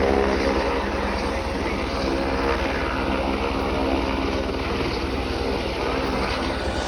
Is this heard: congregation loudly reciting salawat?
no